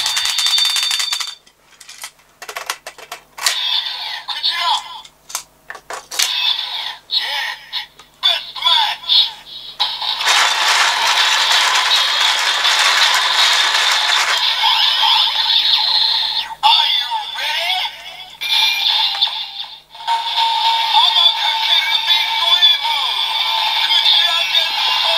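A DX Build Driver toy belt from Kamen Rider Build plays electronic sound effects with whale, jet, deer and pyramid full bottles: choppy bursts of bright synthesized tones, then sustained loud jingly music and effects.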